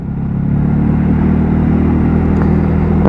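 A 125cc AJS Modena motorcycle rides easily on fresh, unscrubbed tyres, its engine humming close and steady with a mild rise in pitch, no voices.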